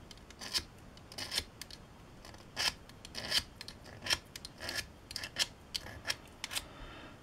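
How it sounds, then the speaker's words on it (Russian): A blade edge scraping enamel off roughly one-millimetre copper wire, a series of short, sharp rasping strokes in an irregular rhythm, close and quiet with faint pauses between them. "Чтобы не стирать острие, я скоблю вот этой гранью. Она тоже достаточно острая и прекрасно сдирает лак."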